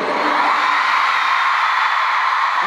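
A large crowd at a concert in Vienna screams in a loud, sustained, high-pitched roar that holds steady from start to finish.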